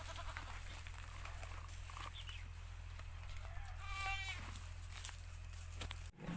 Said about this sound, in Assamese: এইটো ছাগলী জাতটো ইয়াৰে হয় মোৰ লোকেল ছাগলী